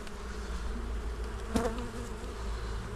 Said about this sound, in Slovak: Že už tie včely nosia pel, aj keď teda tento rok to vyzerá na extrémne skorú jar.